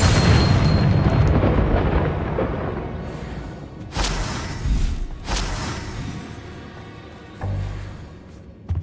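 Bombarda spell blasts in Hogwarts Legacy combat produce deep booming explosions, a heavy rumbling burst at first and then several sharper thuds that decay, loud and close.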